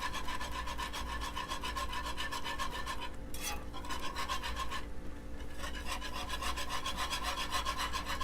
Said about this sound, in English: And then I'm going to whisk.